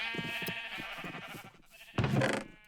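Sheep bleat in the video game Minecraft, with a quavering bleat at the start followed by a louder second bleat, both close and alone against light background clatter.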